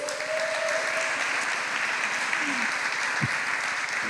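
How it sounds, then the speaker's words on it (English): An audience at a civic talk applauds two guest speakers, a dense, steady wash of many hands clapping that holds at an even loudness throughout. "Let's give them a round of applause"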